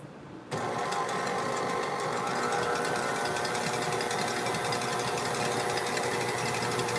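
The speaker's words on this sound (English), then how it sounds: "This is not endorsed by KitchenAid. And I'm gonna turn it on." A KitchenAid stand mixer switches on abruptly and keeps running with a steady loud mechanical whir and rapid rhythmic whisk clatter, close by, with no talking.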